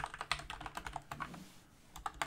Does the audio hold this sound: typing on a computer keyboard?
yes